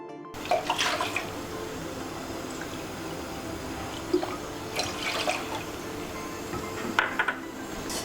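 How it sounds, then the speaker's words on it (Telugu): Water poured from a cup into a cooking pot for boiling, a thin splashing trickle with a few light clinks of the vessel, close and fairly quiet. "ఈ కప్పుతో 4 కప్పులు వాటర్ యాడ్ చేసుకోవాలి."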